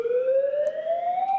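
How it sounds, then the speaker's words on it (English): Hawaii nuclear attack warning siren being tested, a loud, steady tone sweeping slowly upward in pitch with clear overtones, sounding alone without voices. "Hawaii has resumed testing its nuclear attack warning sirens"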